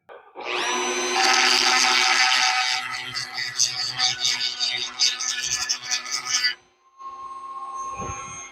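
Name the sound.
grinding burnt plastic on air fryer handle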